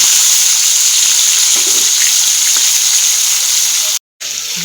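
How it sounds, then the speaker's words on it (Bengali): Fish pieces frying in hot oil give a loud, steady hiss of sizzling close by, broken by faint soft knocks and a brief silent gap near the end. "তেল গরম হয়ে গেছে, দিয়ে দেব মাছের পিসগুলো"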